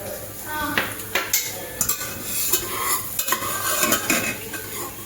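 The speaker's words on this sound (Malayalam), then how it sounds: "അപ്പൊ നമ്മുടെ ഇന്നത്തെ പ്രധാന പരിപാടി കശുവണ്ടി മുന്തിരി വറക്കല്" Cashews and raisins fry in oil in a pan while being stirred, with steady sizzling broken by repeated scraping and clinking of a utensil against the pan, close and fairly loud, with no talking.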